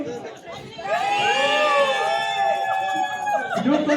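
Wedding guests cheer loudly together for the bride's team during a shot-glass relay game, with sustained shouts and whoops from a crowd of voices lasting several seconds.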